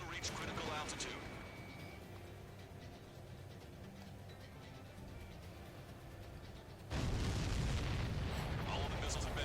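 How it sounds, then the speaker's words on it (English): Explosions as missiles are destroyed in the video game Ace Combat 7, a continuous rumbling roar with a sudden louder blast near the end, with a voice talking over it. "All of the missiles have been destroyed."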